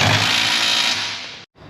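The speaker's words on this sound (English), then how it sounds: "We do take air impact and hit those bolts, tighten them up good." An air impact wrench hammers on final drive bolts during an undercarriage rebuild, a loud, dense, continuous rattle up close that fades briefly, cuts out, then resumes.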